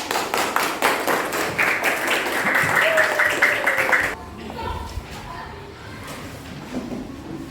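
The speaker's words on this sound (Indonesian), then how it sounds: "Tepuk tangan semuanya, ayo." Classroom applause from students, a burst of clapping that runs loud for about four seconds and then stops abruptly, with scattered talk and room noise afterward.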